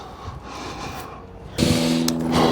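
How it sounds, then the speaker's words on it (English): A power drill drives screws into a wooden deck stair stringer, first a faint whirring, then a louder steady motor whine as a screw bites in, close by. "Just gonna put a few screws in this bad boy."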